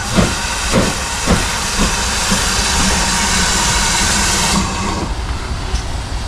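A steam locomotive in Devon hisses loudly and continuously, with rhythmic chuffs at the start as it pulls away, then a sustained rush of escaping steam.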